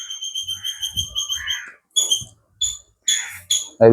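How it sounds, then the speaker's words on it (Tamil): Birds chirp in Jaffna among trees, quick, bright repeated bursts, close and clear, with short pauses between calls and a low thump near the end. "அதே நேரம் பறவைகள் இந்த சத்தம் வந்து கொண்டே இருக்கு"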